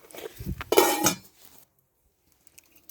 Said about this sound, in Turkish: Kapağını kapat.